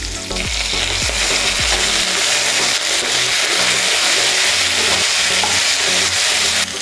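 Vegetables for Bengali sukto stir-fry with ginger paste, a loud, close, unbroken sizzle with a few heavy stirring knocks against the pan at the start.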